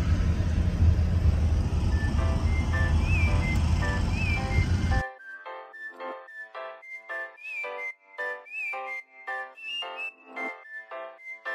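Electric Nexon car on the road, a loud steady low rumble of road noise for about five seconds beneath a whistled tune, before cutting away to the whistled melody alone.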